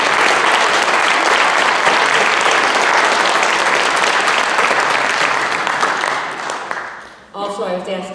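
Loud, dense audience applause at a mayoral candidate forum in Richland Center, sustained for several seconds before tapering off into a speaking voice at the end.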